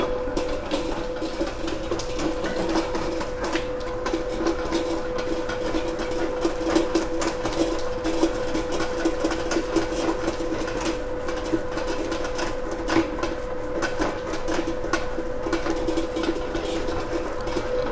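An electric mixer kneads burger bun dough enriched with Vilma Prestige margarine, giving a steady, continuous motor whir with a constant tonal hum that holds evenly throughout without pause.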